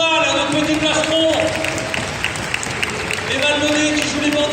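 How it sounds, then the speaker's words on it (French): An audience applauding a performer at a police mounted unit demonstration in Paris, steady loud clapping from a crowd over several seconds, with someone talking over it. "On peut peut-être applaudir aussi Thomas"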